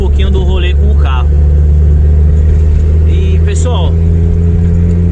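A Chevrolet Opala with a turbocharged six-cylinder engine drives along, its steady, loud low engine drone continuing throughout while someone talks over it.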